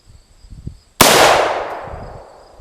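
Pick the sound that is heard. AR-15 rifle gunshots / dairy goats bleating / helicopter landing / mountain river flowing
AR-15 rifle gunshots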